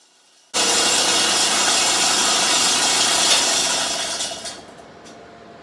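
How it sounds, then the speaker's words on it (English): Air-powered planishing hammer working sheet metal along rolled beads for a 1969 Camaro Z28 radiator cover: a loud, continuous rapid buzzing that starts abruptly, holds steady for about four seconds, then tapers off. "Here I am planishing down the center line of the beads with my planishing hammer"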